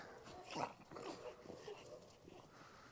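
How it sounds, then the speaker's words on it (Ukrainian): A dog makes excited whimpering and yipping sounds, faint and close, in a few quick bursts over a low background. "Е, песик радується."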